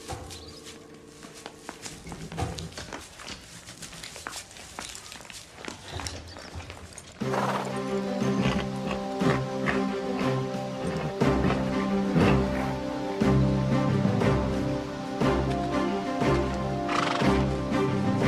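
Horses neigh and their hooves clip-clop at a walk, at first faint and sparse, then joined by a fuller layer of sound as the steps continue.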